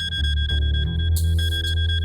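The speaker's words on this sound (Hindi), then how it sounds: "हस्बैंड का नाम लिया नहीं कि फोन आ गया।" A phone rings with a steady electronic alarm-like tone, loud and continuous with no talk over it, carrying a sustained high pitched ring.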